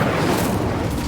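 An Incendio fire spell is cast in Hogwarts Legacy, a dense, steady roaring whoosh with a low booming body that fills the whole short burst at full loudness, with no voices.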